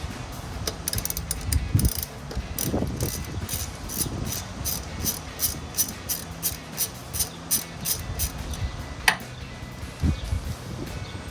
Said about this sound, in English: 12mm socket with a 3-inch extension just to make it a little easier for us.